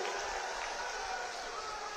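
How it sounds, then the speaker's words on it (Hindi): An audience applauds at an outdoor political rally in Bihar, steady broadband clapping that holds for the whole moment without a break. "जोर से ताली बजाइए जरा"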